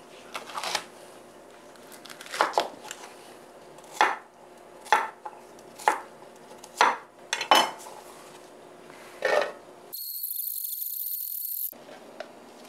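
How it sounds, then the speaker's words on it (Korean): A knife chops green onions (scallions) on a cutting board while kimchi is prepared, about a dozen crisp, separate close thuds at uneven intervals, followed by a brief high-pitched hiss near the end. "이제 쪽파를 좀 썰어 놓고 마늘하고 홍고추를 갈아줄 거예요"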